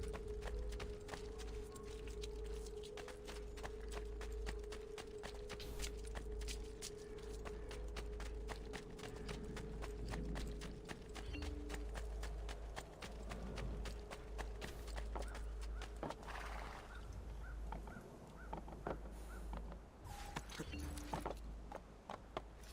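Horse hooves clip-clopping in Assassin's Creed II, a long run of quick, evenly spaced hoofbeats at a steady trotting rhythm, fairly faint over a low hum, slowing and thinning near the end.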